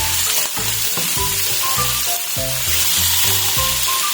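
Pechay and cabbage sautéing in a pan, a loud, dense sizzle throughout, broken by repeated rhythmic scraping and stirring strokes of a utensil.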